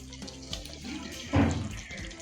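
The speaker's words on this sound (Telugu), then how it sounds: "సుమారు 2 లీటర్ల వాటర్ తీసుకున్నాను అనమాట" Water pours into a pot on a stove, about two litres, as a short gushing splash that rises in the middle of the clip over a low background hum, close and moderately loud.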